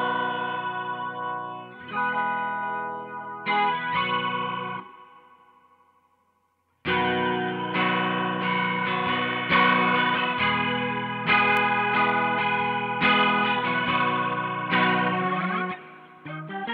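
An electric guitar played through a Boss MO-2 Multi Overtone pedal gives a thick, organ-like tone. Chords ring and change steadily, with a brief fade to near silence before a fuller passage resumes.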